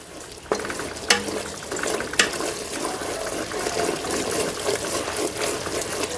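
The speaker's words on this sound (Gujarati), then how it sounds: "આવી રીતના તેલમાં સાતળો" Chutney and spices sauté in hot oil with a continuous bubbling sizzle, punctuated by a few sharp clicks of a spoon against the pan; close, moderate level, with no talking.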